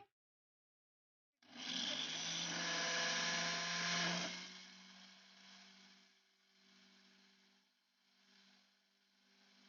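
An electric grinder whirs loudly as it grinds carom seeds into powder for a home cough remedy, running steadily for a few seconds before winding down into a quieter, fading hum.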